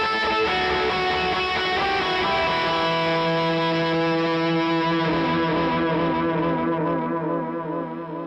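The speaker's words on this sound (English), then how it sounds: "this is my Moss distortion" Electric guitar through a Moss distortion pedal, sustained saturated chords and held notes ringing steadily with a thick, buzzy distorted tone, loud and close, fading slightly at the end.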